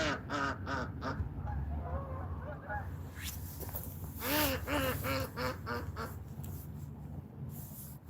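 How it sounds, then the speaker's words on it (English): A big flock of geese flies in overhead, honking repeatedly in overlapping calls, close and fairly loud over steady outdoor background noise. "there's a big flock of geese coming in"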